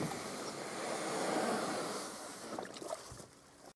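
A canoe being pushed off into the water, heard as a low, continuous scraping and swishing wash that swells and fades over a few seconds, with faint knocks near the end.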